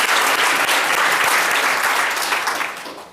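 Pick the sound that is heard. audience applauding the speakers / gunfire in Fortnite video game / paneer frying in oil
audience applauding the speakers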